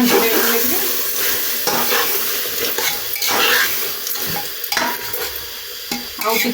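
Masala frying in oil for a non-vegetarian thali, a loud close sizzle with repeated scraping and clanking of a spoon stirring against the pan.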